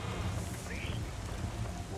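Steady, dense rain pours during a storm in Wind Waker HD, a constant hiss with low rumbling underneath and a brief tonal sweep from the game.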